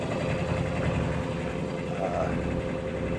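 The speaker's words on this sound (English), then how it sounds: "We got the engine warming up." An engine idles steadily as it warms up early on a calm morning, a constant mid-level rumble and hum that stays close and unchanging.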